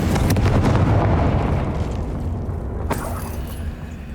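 Explosions from the Confringo blasting spell in the Hogwarts Legacy video game, a loud booming burst that decays into rumbling debris, followed by a second sharp blast near the end.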